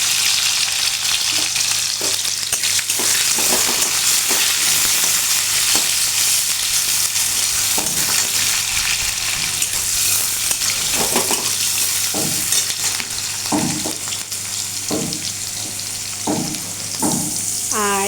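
Chopped onion and tomato frying with black cumin in plenty of oil, a loud continuous sizzle with repeated scraping stirs of a spatula against the pan throughout, close up and without speech.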